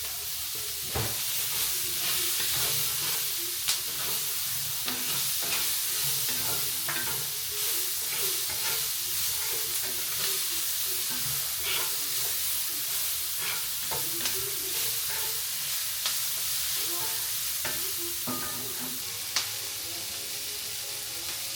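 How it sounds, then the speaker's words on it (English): Onions and garlic sauté in a pan for a homecooked dinner, giving a steady, close sizzle with frequent spatula stirs and scrapes throughout, no voices. "I'm gonna add the onions and garlic and let that saute for a few minutes until the onions are translucent"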